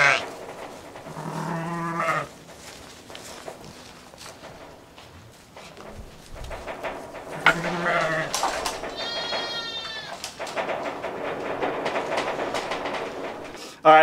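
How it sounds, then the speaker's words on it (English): Sheep bleat loudly nearby on a windy homestead in several calls, with rustling movement and someone talking in between. "let these sheep out"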